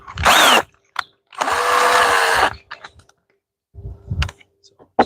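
Power drill driving into material while wiring a solar panel, battery and inverter on a garden shed, two loud close bursts of whirring with a pitch sweep, separated by short pauses and handling knocks.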